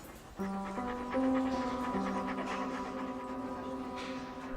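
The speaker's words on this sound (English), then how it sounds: "She's a lovely dog." A gentle dog pants steadily and close by, in a quiet indoor setting, with a faint whimpering tone running through the rapid breaths and no talk.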